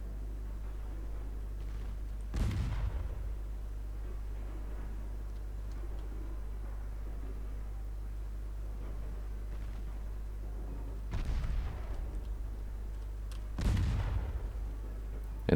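Heavy naval guns fire in Ultimate Admiral: Dreadnoughts during a 1925 Norwegian campaign battle, with three deep booming salvos rolling out over a low, constant engine-like hum.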